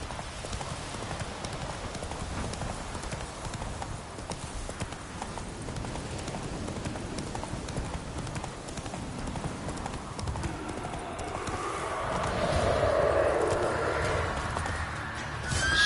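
Roach, Geralt's horse in The Witcher 3, trots and gallops with continuous hoof clip-clops, joined by a neigh and rising rushing noise toward the end, with little talking.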